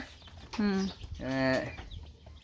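Khasi chicken chicks give a couple of clear, drawn-out peeping calls up close, two distinct cheeps in quick succession over faint background noise.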